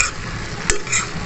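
Stir-fried vegetables with hotdog and chicharon being stirred in a pan, with a steady sizzle, scraping utensil strokes and a sharp clink midway, no talking.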